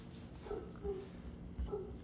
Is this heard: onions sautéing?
no